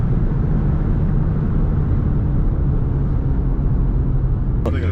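Inside a Lexus IS300 with a five-speed manual, a dense, steady engine and road drone fills the cabin at high speed, loud and unbroken, with a brief click near the end and no talk.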